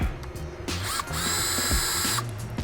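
A power drill fitted with a 5.5 mm bit backs screws out of a Honda Civic Type R FK8 engine bay during a blow-off valve install. It gives loud, close whirring bursts with ratcheting starts and stops.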